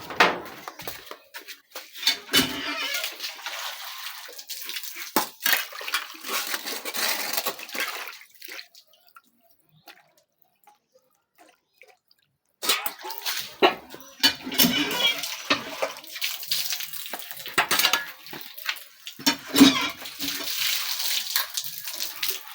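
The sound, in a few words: washing a freshly cut lemon under running water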